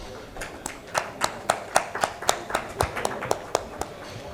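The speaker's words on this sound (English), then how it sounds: "Please give a round of applause to all our speakers on stage." At an agritech panel discussion on smart agriculture, the audience applauds the speakers on stage. The clapping is thin and fairly quiet, with a steady, evenly spaced rhythm that suggests only a few pairs of hands.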